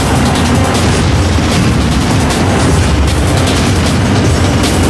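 Cannon weapon firing in the anti-gravity racing game Ballistic NG, a loud, dense, continuous blasting roar with booming low end that fills the whole stretch without pause.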